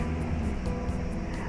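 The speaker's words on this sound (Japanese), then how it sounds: "各務原はね、基地の町ですので飛行機が飛んでます。" Airplane flying over Kakamigahara, an air base town in Japan, a steady low broadband engine roar that holds at constant loudness throughout with no voices.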